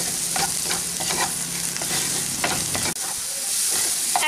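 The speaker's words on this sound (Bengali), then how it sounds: "এখন এই সব মশলা ভালোভাবে একটু মিশিয়ে নিচ্ছি পেঁয়াজের সাথে।" Spices such as red chilli powder are stirred with onions in a frying pan, giving a continuous close sizzle with repeated scraping strokes of a spatula, steady throughout.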